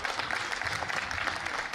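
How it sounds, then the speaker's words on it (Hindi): An audience at a speech on a stage claps in a brief, steady burst of fairly distant, moderately faint applause with no voice over it. "ताली बजाइए, मैं अपना काम लगाता हूं।"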